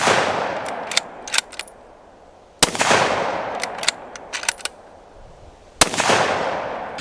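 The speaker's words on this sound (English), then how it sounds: "shoot into this berm, and charge it while on my shoulder" Three sharp Springfield 2020 Redline .308 rifle shots fired into an outdoor berm, each a loud close crack with a long rolling echo, spaced a few seconds apart.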